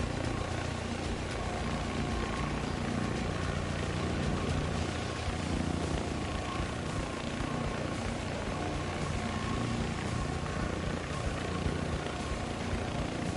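Engine drone from aircraft in the War Thunder video game, with an RAH-66 helicopter in play, holds steady and dense for the whole stretch with a buzzing, rotor-like texture and no break.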